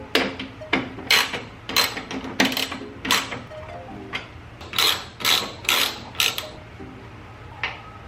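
Ratchet working 10mm headlight bolts at the top of a Toyota Tacoma's fender and subassembly, heard as a series of sharp creaking, clicking bursts in irregular rhythm, fairly close and with no talking.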